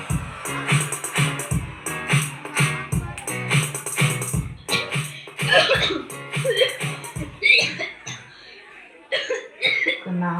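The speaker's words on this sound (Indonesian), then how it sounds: "Batuk kayak gitu" Repeated coughing from a schoolboy in a school drama, several bursts in an uneven rhythm mixed with voices and background talk, fairly close and moderately loud.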